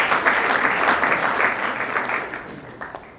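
An audience breaks into loud, dense applause, a continuous burst of clapping close by that eases off slightly toward the end.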